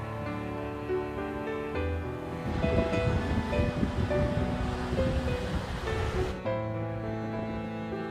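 Waves and strong winter sea wind at Gwakji Beach, Jeju, swell into a broad rushing roar for a few seconds in the middle, set over steady background music.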